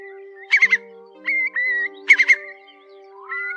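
Recorded call of the Móc Còng bird, clear bursts of rapid trilled notes alternating with sustained whistled tones, repeating in a loose pattern over a faint steady hum.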